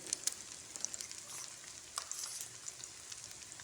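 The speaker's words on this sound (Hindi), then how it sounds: "और ये शैलो फ्राई होंगे।" Potato kababs shallow fry in a pan over a slow flame, a soft steady sizzle with scattered light crackles and pops, close and fairly quiet, no voices.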